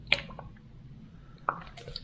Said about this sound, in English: drop some water in